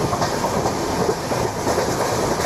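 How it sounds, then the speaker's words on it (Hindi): Train Simulator wheels clatter over rail joints at speed on an Indian express run, a steady, fairly loud rolling rumble with rhythmic clickety-clack beats and no voices. "109 की रफ्तार देख रहे हो, ट्रैक साउंड खटाखट।"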